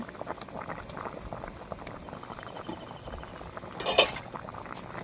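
A pot of fish curry broth bubbles at a soft, steady boil, with faint clinks of utensils and a brief louder clatter near the end, quiet and close.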